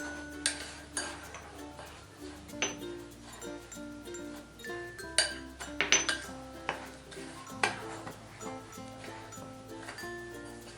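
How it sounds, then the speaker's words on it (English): Dry cupcake ingredients, cocoa powder among them, stirred in a mixing bowl for eggless cupcakes: near, repeated clinks and scrapes of a utensil against the bowl, irregular taps throughout, with soft background music. "So we are going to mix all the dry ingredients first"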